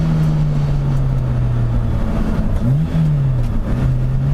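A car accelerates through its gears with a steady, loud engine drone close by. Around the middle a shift makes the pitch dip briefly, then the engine climbs again; no talking.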